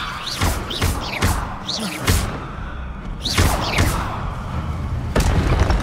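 A levitation spell is cast in Hogwarts Legacy, part of a quick series of magical combat effects: whooshing casts, sharp thuds and booming impacts hit one after another, loud and close, with no talking.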